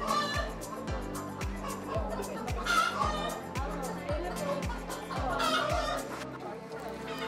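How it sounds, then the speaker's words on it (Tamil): Karnataka black chickens cluck and squawk close by at a park in Yelagiri, layered with a steady rhythmic mechanical thumping and people chattering in the background. "கர்நாடகா கருப்பு கோழி"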